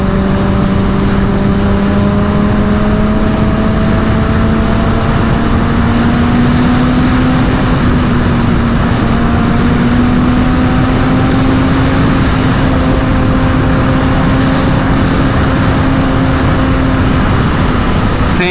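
A super sport motorcycle riding a twisty road near Hassan, its engine holding a steady, loud drone with slowly shifting pitch as it leans through bends, accompanied by constant wind rush and no talking.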